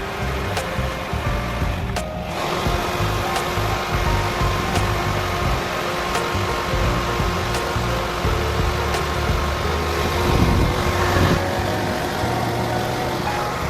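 A car's air conditioning running with its blower fan and compressor on, heard from inside as a loud, constant low hum and whir with a few faint ticks, no talk.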